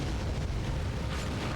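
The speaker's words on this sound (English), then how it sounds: "Explosion." A loud, rumbling explosion in the PS2 game BloodRayne 2 roars continuously, a dense booming blast with a burst of crackle near the end.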